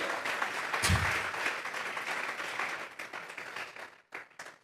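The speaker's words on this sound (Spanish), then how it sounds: "Vamos a regalarle ofrenda de palmas al Dios de la gloria." A church congregation claps in a burst of applause during a service, a thick wash of hand claps that thins out and breaks into scattered final claps.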